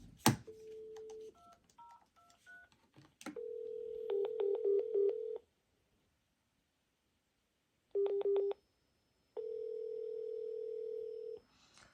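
A Panasonic KX-TG5583 cordless phone beeps through a run of dialing tones, then long steady tones play with short beep bursts laid over them, separated by brief silences.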